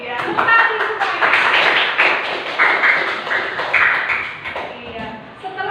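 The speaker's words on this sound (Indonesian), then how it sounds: "tepuk tangan semuanya." A class of children claps their hands in a steady, rhythmic pattern of sharp taps, with young voices chanting and talking throughout.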